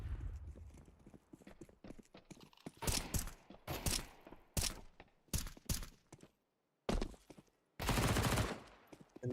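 Gunfire from SMGs in a Counter-Strike-style first-person shooter pro league match, coming as several loud, sharp bursts of varying length separated by short gaps and one brief silence.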